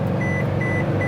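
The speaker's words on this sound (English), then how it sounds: "that beeping sound was the lane departure alert system" Lane departure alert inside a 2021 Toyota Tundra 1794 pickup, a thin repeating beep pulsing several times over a low cabin road hum.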